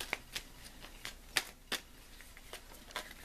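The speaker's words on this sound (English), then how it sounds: "I'm going to take the first pile, and I'm going to shuffle." Tarot cards are shuffled quietly by hand, a series of soft, irregular riffling snaps and flicks close by with no talking.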